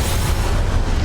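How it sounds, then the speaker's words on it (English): A magical Levioso spell cast in Hogwarts Legacy on Nintendo Switch, heard as a loud, dense, rumbling whoosh with a deep low-end surge that stays steady for about a second. "Levioso!"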